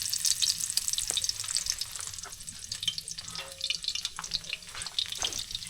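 Onions frying in hot cooking oil in a pan, a close, continuous crackling sizzle with bursts of popping and occasional stirring, alone without talk.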